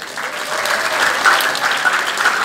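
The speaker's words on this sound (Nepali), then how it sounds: "आफ्नै लागि एक ताली" A crowd claps together in steady, even applause that carries on for a couple of seconds.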